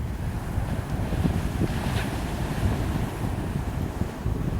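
Rough open Pacific Ocean surf on a rugged island coast in Taiwan, north of Hualien, a steady broadband wash of waves mixed with gusting wind buffeting the microphone, continuous with no speech.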